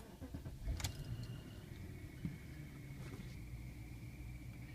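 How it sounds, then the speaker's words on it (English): A BMW's engine is started after coolant expansion tank replacement, with keys jangling and a starter turning, then a low, steady idle rumble that continues, close and moderately quiet. "Next, we're going to turn the engine on."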